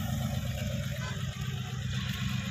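John Deere 5310 D tractor engine working hard while lifting a loaded trolley, a steady close low rumbling diesel drone with a rhythmic chugging throb throughout, no talk.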